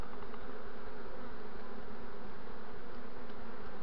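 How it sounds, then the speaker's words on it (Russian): Dense, steady buzzing of a honey bee swarm with young queens settled in the hollow of a linden tree, a loud continuous hum filling the space with no voices. "Вот сколько пчел там."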